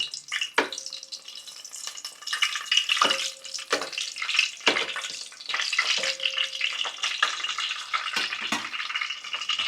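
Slit green chillies sizzle and crackle in hot oil in a home kitchen pan, a continuous close frying hiss with occasional stirring scrapes and clinks, no voices.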